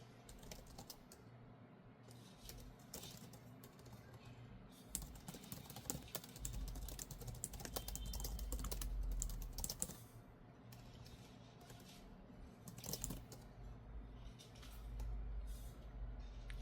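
Continuous typing on a compatible AliExpress magic-style keyboard with pogo-pin connection for an iPad Pro M4, quick soft keystrokes in irregular bursts with a few louder clacks, close and quiet in a calm room.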